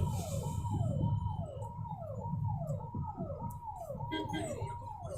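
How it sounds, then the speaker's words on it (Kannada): An ambulance siren wails in city traffic in a repeating rising-falling pattern, loud and steady throughout, over a low rumble of engines with occasional voices nearby. "ಅದೇ ಜಾಗನೇ ಕೊಡ್ತಿಲ್ಲ ಆಂಬ್ಯುಲೆನ್ಸ್ಗೆ"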